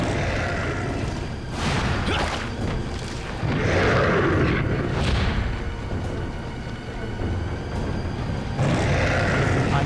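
A grenade blows up in Resident Evil 4, a series of muffled booming blasts rumbling in waves among game sounds, with a voice briefly underneath.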